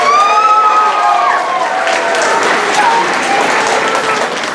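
Loud audience applause for a student at a STEM Students of the Month school ceremony, sustained clapping with some cheering, a voice audible briefly at the start before the crowd noise takes over.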